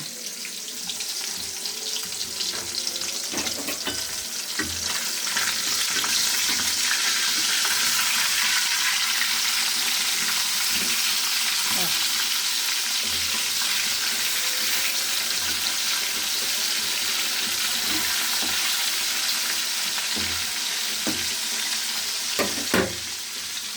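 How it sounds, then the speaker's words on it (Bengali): Three pieces of fish fry with bori lentil dumplings in a pan, a long steady sizzle mixed with running-water hiss and occasional clinks of a utensil, moderately loud and close. "আর এদিকে 3 পিস মাছ ভেজে নিচ্ছি বড়ি দিয়ে"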